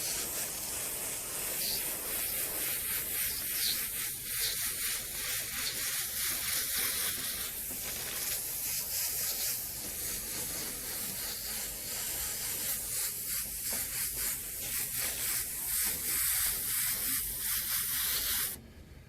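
An airbrush sprays paint onto a skull with a continuous, airy hiss that holds steady for the whole stretch, close and fairly even, cutting off abruptly at the end.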